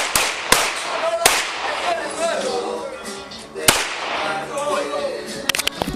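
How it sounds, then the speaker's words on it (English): Sharp, loud bangs of gunshots in police body cam footage of an officer-involved shooting at a house, several cracks spread irregularly with a rapid cluster near the end, amid people talking. "Looks like you shooting into the dark."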